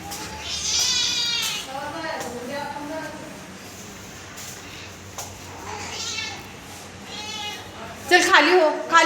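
Young kittens left by their mother mew repeatedly, high and thin, mixed with someone talking nearby; the cries come in bursts, with a sharper, louder call near the end.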